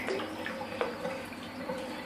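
Water runs steadily from a tap into a tub for a large lizard's bath, a continuous moderate splashing stream with occasional small drips and plops.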